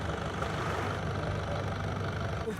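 A long-tail boat engine mounted at the stern runs steadily in Thailand, a loud, continuous low rumbling drone with no pauses.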